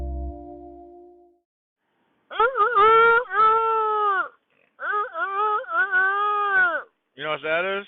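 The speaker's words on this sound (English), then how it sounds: "That's the sound of a slightly underage rooster in the morning." Young, not-yet-mature rooster crowing in the morning, heard as several strained, broken crows with cracking pitch, separated by short pauses, loud and close.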